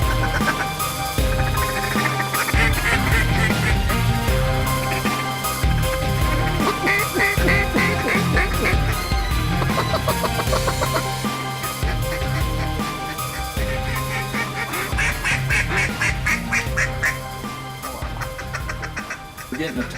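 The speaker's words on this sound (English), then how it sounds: "We're getting a ton of ducks working" A flock of ducks quacking busily over a flooded timber hunting spot in Arkansas, rapid overlapping calls near and far, with hunters talking and duck calls blowing over the chorus.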